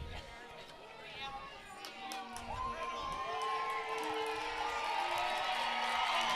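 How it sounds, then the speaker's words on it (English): A crowd in the first base stands at a state championship softball final cheers and applauds, the whoops and clapping building steadily louder across the clip over a background of crowd noise. "A rousing round of applause from the first base stands"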